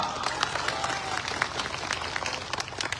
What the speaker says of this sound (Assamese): যদি ভাবে তেতিয়াহ'লে এটা হাত তালি বজাওক না।